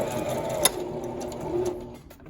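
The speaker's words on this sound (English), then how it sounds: "And you're gonna stitch this with a 1/2 inch seam allowance." A domestic sewing machine stitches a seam on a wine duffle bag, its motor buzzing steadily and close for about two seconds, with a sharp click near the start and the sound easing off at the end.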